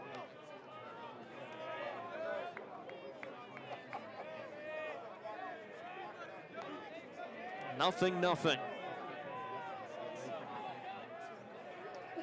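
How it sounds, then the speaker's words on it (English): Murmuring crowd at a college baseball game, UCLA against UCR, a soft steady babble of many voices with a commentator talking over it and a brief louder burst near the end. "Murmurs from the crowd."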